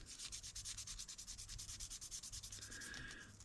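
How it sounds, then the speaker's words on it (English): Sandpaper of 600 grit scrubs lightly over the body of an Aoshima model car, making quick, even rasping strokes close up and faint, with no other sound. "using 600 grit, not putting a lot of pressure on at all"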